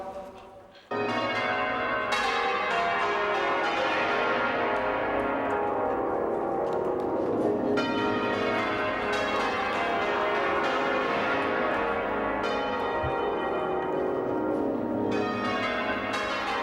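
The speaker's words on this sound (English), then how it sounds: "I'm looking forward to hearing all 13 of these bells being rung together." A full peal of thirteen church bells rings out continuously, many bells tumbling over one another in cascading, overlapping strikes, loud and resonant for a long stretch.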